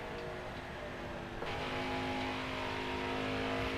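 A race truck engine drones loud and steady throughout a lap at Pocono in the NASCAR Heat 4 video game, with a continuous high rev and a slight shift partway through.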